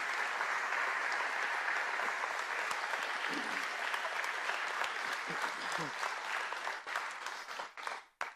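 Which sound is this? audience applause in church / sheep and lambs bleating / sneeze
audience applause in church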